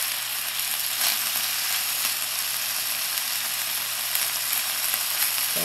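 Korean beef sizzles in a skillet with a loud, continuous, even frying hiss that stays close and unbroken from start to finish.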